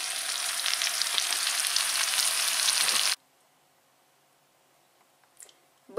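A steady sizzling bubble of pumpkin vegetable stew cooking in a cast-iron pot fills the first half, then it goes quiet apart from a few faint clinks.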